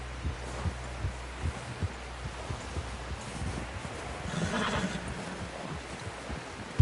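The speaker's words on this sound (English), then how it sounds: "Someone help John down off this horse" Horse in the video game Red Dead Redemption 2, with steady clip-clop hoofbeats and a snort or whinny midway, set against a low game ambience.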